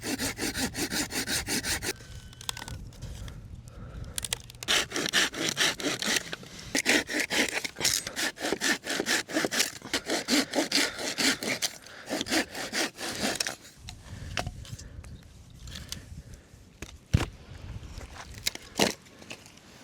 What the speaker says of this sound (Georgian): ხერხი ავიღე და წავედით ახლა რაღაცეები მოვჭრათ